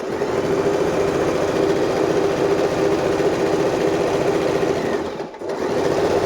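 Usha sewing machine stitching an SS decorative pattern, a steady fast mechanical whirr with even needle rhythm running close and loud, briefly dipping near the end, no talking.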